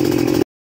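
A motorcycle engine with its carburetor being tuned drones steadily and loudly for under half a second, then cuts off abruptly into silence.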